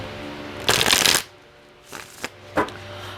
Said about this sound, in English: Let's pull a card and see what this is about